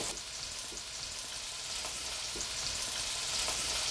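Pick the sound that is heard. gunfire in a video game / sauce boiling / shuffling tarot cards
sauce boiling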